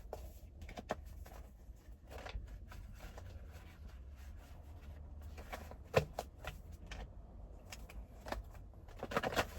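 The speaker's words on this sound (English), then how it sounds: "Shuffle these up real good." A deck of cards is shuffled by hand, soft riffling and tapping bursts repeating irregularly, faint and close in a quiet room.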